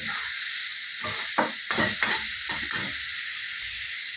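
Peas and paneer are stirred into a hot, oil-releasing spice paste for matar paneer, with a steady sizzle of frying under a series of scraping stirs and clatters close by, no talking.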